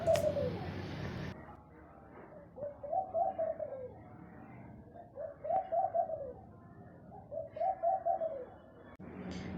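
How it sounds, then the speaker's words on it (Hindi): A bird perched near a house calls in soft, repeated cooing phrases, koel-like, several spaced bursts over a quiet background, fairly close and moderately loud. "इसकी आवाज़ ना बहुत ही प्यारी है, जैसे कोयल बोलती है ना उस तरीके से बोल रही है।"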